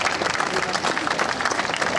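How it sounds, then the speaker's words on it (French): Audience applause at the Fête de la Saint Fiacre 2022, honouring an association's president and members: steady, dense clapping from a crowd, fairly loud and continuous throughout. "On les applaudit."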